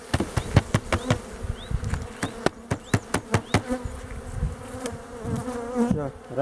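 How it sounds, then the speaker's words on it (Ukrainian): Honey bees buzz loudly and steadily while a hive frame is shaken during an early-season colony inspection, with a quick series of sharp knocks in the first half and scattered thumps later. "Струшуємо бджіл."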